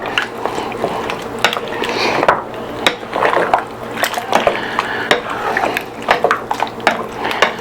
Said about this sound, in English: Give that a little stir there